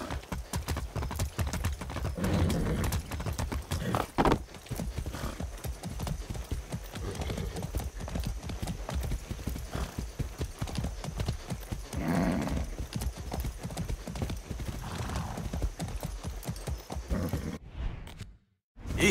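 Horse hooves clip-clop in steady rhythm through Far Cry 6 gameplay, a continuous walking beat under game ambience with an occasional whinny, ending in a brief drop to near silence.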